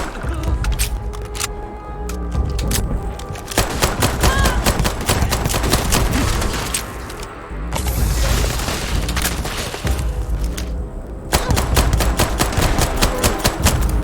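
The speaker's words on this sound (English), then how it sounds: "Just shoot everything!" Rapid bursts of gunfire in the sci-fi game Starfield, with dense, overlapping shots and booms. A loud, near firefight runs almost unbroken for the whole stretch and eases off only briefly partway through.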